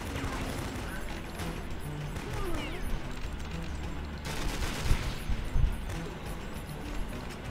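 In the Doom-style first-person shooter Prodoomer, a shotgun and other weapons fire in repeated, loud, crunchy blasts mixed with mechanical clatter and a continuous harsh roar, growing denser toward the end.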